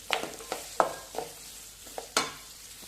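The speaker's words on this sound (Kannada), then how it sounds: "ಇವಾಗ ನೋಡ್ರಿ ಉಳ್ಳಾಗಡ್ಡಿ ಎಲ್ಲ ಚೆನ್ನಾಗೆ ಫ್ರೈ ಆಗ್ಯಾವು" Onions frying in a pan, soft background sizzle broken by a series of sharp spatula scrapes and taps against the pan, close with no talk.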